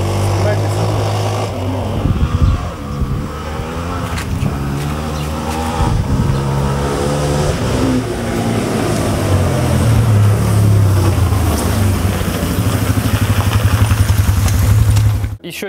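Suzuki Djebel motorcycle with a carbureted engine, idling loudly and then revved with throttle blips, heard close, with someone talking over the engine.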